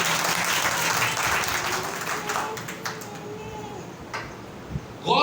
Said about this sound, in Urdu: ذرا زوردار تالیاں خدا ان کے لیے بجا دیں۔